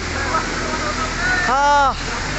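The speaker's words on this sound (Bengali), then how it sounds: "চারিদিক থেকে ঝর্ণা, পাহাড় খুঁড়ে ভেদ করে কেমনভাবে নদী পথে ধাবিত হচ্ছে।" Ramjodi waterfall in Mayurbhanj, Odisha, with cold water rushing over hills, a steady broadband roar throughout that swells for a moment near the end, with a short whistle-like tone over it.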